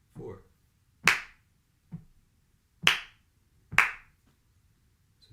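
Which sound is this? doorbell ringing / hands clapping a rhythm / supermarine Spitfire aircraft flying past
hands clapping a rhythm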